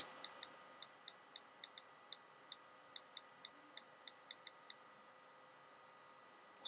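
Quick, light taps on an iPhone keyboard while texting: about seventeen small, crisp clicks at an uneven pace, faint against a quiet background, then a louder burst at the very end.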